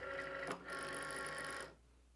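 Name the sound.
Cricut cutting machine loading the mat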